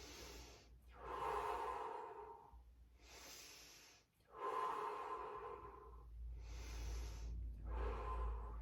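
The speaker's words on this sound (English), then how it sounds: "Let's take 3 breaths here." Slow, deep breaths drawn in and let out while balancing in yoga tree pose, three long airy inhale-exhale cycles close to the microphone in a quiet room, with a low rumble rising underneath toward the end.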